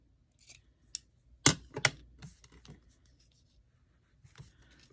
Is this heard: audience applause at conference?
no